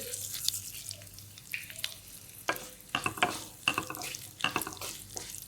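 Curry leaves, green chillies and sesame seeds frying in hot oil, with sharp crackles and spattering pops over a soft sizzle, close and moderately loud, with irregular bursts as the pan is stirred.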